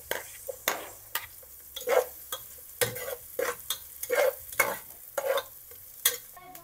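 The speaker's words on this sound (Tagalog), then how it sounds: "lalagay tayo ng mantika. Mainit na siya. Mantika. Bawang. And next na natin ang sibuyas." Garlic and onion fry in hot cooking oil in a pan, sizzling in short bursts as a utensil repeatedly stirs and scrapes, close and fairly quiet with no talk.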